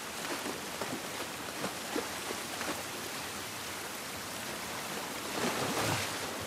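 Rain falling outdoors in the video game The Last of Us Part I, a soft, even wash of drops with faint splashes, quiet and continuous with no speech.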